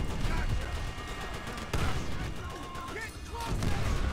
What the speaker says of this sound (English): I hear a machine gun.